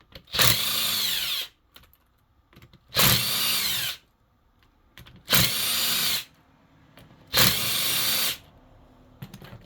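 A power tool whirs in four long bursts of about a second each, separated by short pauses, while a failed pressure washer pump is pulled apart; loud and close with no talk.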